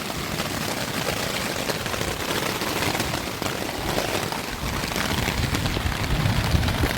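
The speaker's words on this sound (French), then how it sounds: "quand ça pleut très fort, ça fait des éclaboussures sur le tissu intérieur" Heavy rain pounding a hiking tent's fabric during a long-distance trek, a dense, steady hiss of splashing drops close around, continuous and loud with no pauses.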